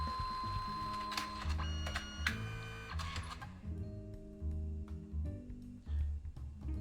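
A Canon SELPHY CP1500 compact photo printer, running from a power bank in a battery holder, whirs and clicks through a print with steady motor hums and repeated low mechanical pulses, quiet and close, with no talking.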